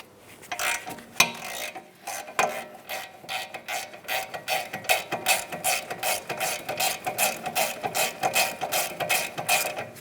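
Rapid ratchet clicking from a wrench with an 18mm socket working a mounting bolt during rear ABS wheel speed sensor replacement on a 2008-2016 Chrysler Town & Country, close and steady with a continuous clatter through most of the span.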